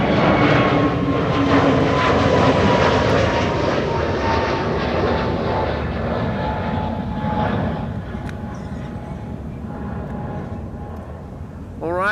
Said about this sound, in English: Delta Airlines Flight 73 to Atlanta, Georgia is first going to be taking off here.